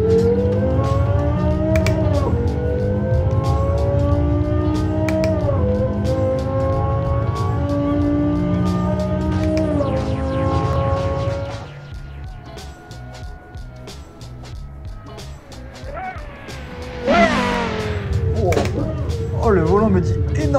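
Simulated Porsche Carrera GT driving around the Nürburgring in a racing sim game, with a steady engine drone rising and falling through gear changes, a quieter dip midway, then louder revving and tire squeals near the end.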